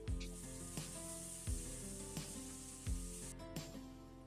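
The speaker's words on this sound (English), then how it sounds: "Saute the spices that have been mashed with a little oil." Ground, mashed spices saute in a little oil in a frying pan, giving a soft continuous sizzle under steady background music.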